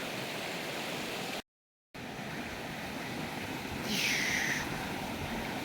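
Light rain begins falling outdoors on a paved mountain path in the Carpathians near Synevyr, a steady broadband hiss that runs throughout, broken by a brief dropout, with no voices.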